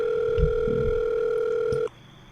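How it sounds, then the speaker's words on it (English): Phone call tone in The Letter video game, a loud steady electronic tone held for nearly two seconds before it cuts off, with a faint low thump partway through. "Goddamn, answer the phone!"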